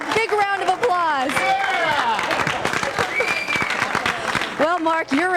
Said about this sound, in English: Those that want to hear Mark, big round of applause